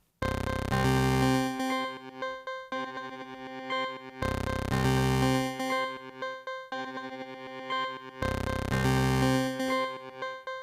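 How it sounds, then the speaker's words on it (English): Buzzy single-oscillator square-wave synth chords from ten tracks stacked across several octaves, repeating in three similar phrases with no voices. "here I only use one oscillator and it's a square wave for all of the 10 tracks"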